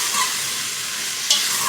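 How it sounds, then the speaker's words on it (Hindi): Raw mango chutney mixture roasting in a pan gives a steady, close sizzle with stirring, and a brief sharper scrape near the end; no one speaks. "इसको भी हम थोड़ा सा भूनेंगे 5 मिनट तक"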